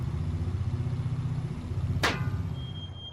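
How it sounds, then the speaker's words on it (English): In the video game Bomber Crew, a damaged bomber's engine throbs in a steady pulsing rumble, then gives a sudden sharp bang-like crack partway through before the drone fades and a thin whine lingers. "a funny noise coming out of the engine there"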